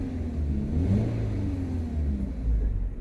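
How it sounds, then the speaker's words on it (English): Low, steady exhaust rumble of a 2023 Subaru BRZ automatic cruising with the windows down, a continuous moderate drone that swells slightly as it rolls along, no voices over it. "a little bit of an exhaust note if you guys can hear it"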